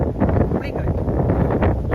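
Strong wind roaring across a hilltop at Kurishumala near Amboori, buffeting the microphone in a loud, continuous rumble, with people talking beneath it.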